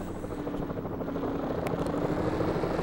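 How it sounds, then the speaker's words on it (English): Steady rhythmic thudding of a helicopter's rotor overhead, continuous and fairly loud, with no voices. "there have been helicopters going all day today"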